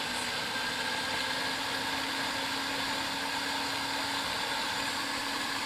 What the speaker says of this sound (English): And with a good high-power blender like this, it actually gets it hot.